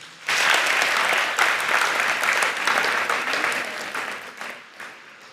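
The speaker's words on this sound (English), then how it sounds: "Give our sponsors a round of applause." Audience applause for the sponsors at a school quiz contest in Tamale, a dense burst of many hands clapping that starts abruptly, holds steady and loud for several seconds, then tapers off near the end.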